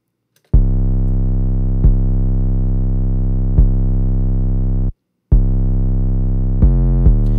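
Loud, buzzy synth bass notes, harmonically rich and distorted with a Trash 2 plugin across mids and lows, repeating in a slow pattern with sharp attacks and a brief silent gap.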